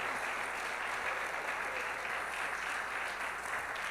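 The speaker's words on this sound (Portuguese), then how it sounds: "Você pode dar um aplauso bem forte ao mesmo" Steady, dense applause from a church congregation during a live worship service, sustained and even throughout without breaks.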